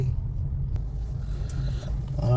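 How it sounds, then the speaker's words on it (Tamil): Road traffic in Ramapuram, Chennai, a steady low engine rumble of cars passing close by, with a rise toward the end, and no clear talking. "இந்த ராமாபுரத்தில் மட்டும் கொஞ்சம் டிராஃபிக்காக இருக்கும் பாருங்கள்"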